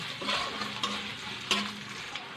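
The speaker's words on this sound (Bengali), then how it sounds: "এবার পেঁয়াজ কুচানোটা দিয়ে দেবো, দিয়ে লাল লাল করে ভেজে নেব।" Chopped onions frying in hot oil seasoned with nigella seeds and dried chillies, a steady close sizzle with occasional stirring scrapes in the pan.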